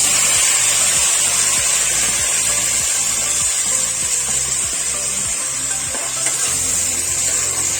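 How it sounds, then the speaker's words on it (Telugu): Cut tomatoes and garlic frying in oil for tomato chutney, a loud, continuous sizzle with rhythmic stirring scrapes in the pan and no talking. "అదే ఆయిల్లో మనము కట్ చేసుకున్నటువంటి టొమాటోస్ మరియు వెల్లుల్లి వేసుకోవాలి"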